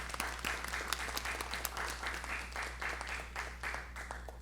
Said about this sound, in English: let's give her a round of applause for that first